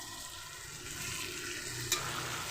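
Chopped onion and tomato fry in a pan, a soft even sizzle heard close, with one brief sharp clink partway through.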